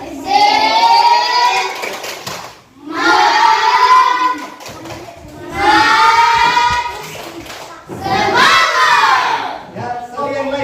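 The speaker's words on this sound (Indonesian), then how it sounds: "Tepuk semangat dulu untuk kelompok 3." A classroom group claps a patterned cheer rhythm together in four loud bursts separated by short pauses, with children's voices chanting along.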